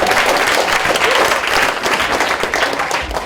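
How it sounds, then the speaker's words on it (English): A conference audience at a talk on Agile and organizational transformation bursts into sustained, dense applause that fills the room for about three seconds with no talking. "Give yourselves a round of applause."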